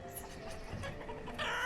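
Chickens clucking in the town-building video game Banished, a quick run of soft clucks and bird calls at moderate distance, alone without talk.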